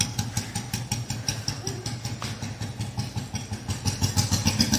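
An old Royal Enfield Bullet motorcycle engine runs nearby with a steady, rhythmic low thump that swells slightly toward the end, no speech over it.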